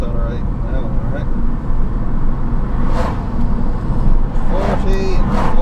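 An electric-converted BMW E36 accelerates in third gear: steady road rumble and tyre noise inside the cabin, with a faint motor whine that rises toward the end and a voice speaking over it.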